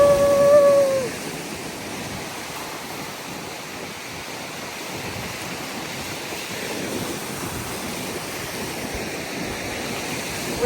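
Ocean waves break and wash up a beach in a steady, loud roar of surf, with a brief tonal sound at the very start and no talking.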